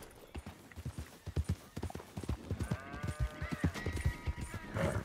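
Steady hoofbeats clip-clop in a quick, even rhythm in Red Dead Redemption 2, with a horse whinnying partway through and faint background sounds.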